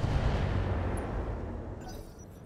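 LRM missile salvo from the RogueTech video game: a heavy rumbling launch burst that starts loud, trails off gradually over a couple of seconds and leaves a faint high tail.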